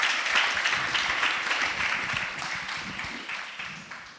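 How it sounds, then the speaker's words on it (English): Sustained audience applause at a sustainability festival session, a dense wash of many hands clapping that stays steady and fairly loud, then tapers slightly toward the end, with no talking over it. "Let's give them a round of applause."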